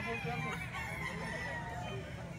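Roosters and stag chickens crow and cluck at a busy poultry market in Baliwag, layered over steady crowd murmur and faint background talk, with several birds calling at once at close to middle distance.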